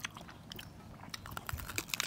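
Squid with eggs in a black ink sauce from a well-known shop in Yasothon, Thailand, being chewed up close: a string of soft crunching bites and wet chewing sounds in steady repetition, fairly quiet, with no talking.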